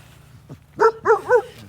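Puppies barking in an outdoor pen as they jump around, giving three loud, close yips in quick succession after a short quiet lead-in.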